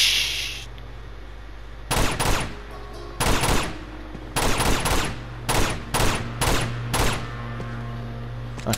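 Sharp bursts of gunfire aimed at snipers in Uncharted 2, several loud separate volleys spaced a second or so apart over steady game background ambience.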